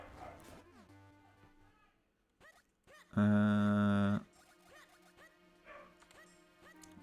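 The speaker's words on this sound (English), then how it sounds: "you can hear the neighbor's dog on the microphone" A neighbor's dog picked up faintly on a microphone: a few short yips, then one loud, drawn-out bark or whine lasting about a second, followed by quieter yelps in a calm room.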